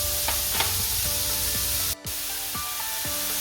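Chopped vegetables sauté in a pan for veg bonda, giving a steady soft sizzle and hiss with occasional spoon stirring scrapes; one brief pause in the middle, no talking.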